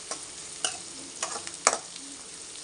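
Curry leaves and mustard seeds frying in hot oil, giving a quiet sizzle punctuated by several sharp crackles and pops spaced irregularly.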